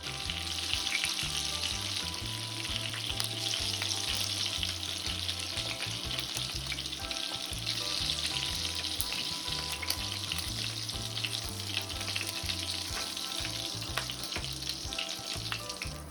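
Meatballs brown in a frying pan with a steady, dense sizzle of hot oil, accompanied by occasional stirring and scraping sounds, close and continuous throughout with no talking.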